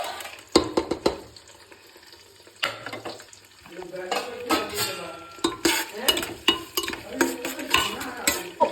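Whole spices frying in ghee with a little oil for vegetable pulao: crackling sizzle broken by sharp spoon-and-pan clinks and stirring scrapes, busy and close, with no talking.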